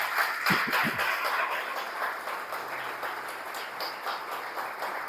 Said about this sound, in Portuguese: dá uma salva de palmas bem forte para Jesus, pela palavra do Senhor.